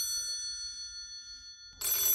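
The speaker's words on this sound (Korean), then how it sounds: "불단 앞에 놓여있던 검은 전화가 갑자기 울린다" An old black telephone sitting before a household Buddhist altar rings, its steady bell tone running throughout at moderate distance before a louder burst of noise near the end.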